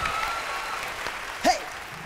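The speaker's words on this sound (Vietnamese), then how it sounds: "Vỗ tay các bạn ơi." Applause from a TV studio audience at a music show, a steady wash of clapping with a brief whoop or vocal sound near the middle.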